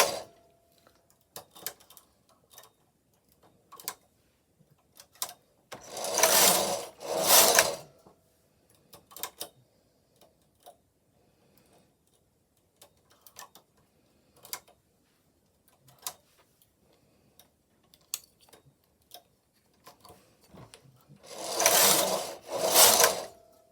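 Silver Reed punchcard knitting machine being worked by hand as needles are pulled out, giving scattered light clicks and ticks, with two louder rasping carriage sweeps that come and go.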